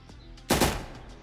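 A single loud pistol shot in the military tactics video game Future War Tactics, with a sharp onset, a quick second crack and a short decaying tail, standing alone over quiet game ambience.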